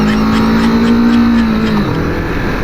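A Kawasaki Vulcan S 650 cruiser motorcycle engine revs loudly and close while riding, a steady droning roar whose pitch holds and then drops as the throttle eases.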